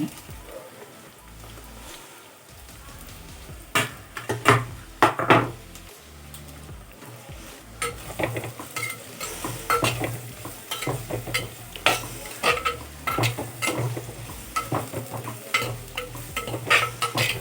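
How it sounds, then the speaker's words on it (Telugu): Onions and green chillies fry in a pan while making Sandhuva fish curry, giving a continuous sizzle and crackle with frequent sharp scrapes and clanks of a spoon stirring against the pan, close and fairly loud. "ఉల్లిపాయలు వేగుతున్నాయి కదా"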